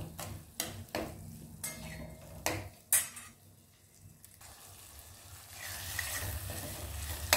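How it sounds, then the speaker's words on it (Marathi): Popti bean mixture with salt is sautéed in a pan. Sharp clinks and scrapes of a spoon stirring against the pan come first, then a steady sizzle of frying builds up. "याला 2 मिनिटापर्यंत असं छान परतवून घ्यायचं आहे"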